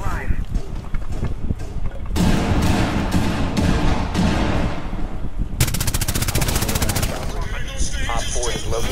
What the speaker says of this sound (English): Placing cluster charge.